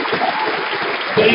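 Sustained clapping from a crowd at a political rally, steady throughout, with a voice speaking over it and the applause swelling slightly near the end.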